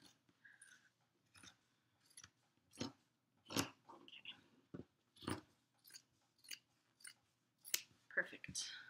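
Scissors cut fabric for a Yup'ik qaspeq in a string of short, crisp snips at an uneven pace, close by and fairly quiet, with soft handling noises in between.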